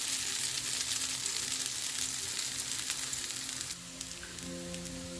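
Potato cakes fry in a hot pan, giving a continuous fine crackling sizzle that drops slightly in level partway through, with a faint low hum underneath.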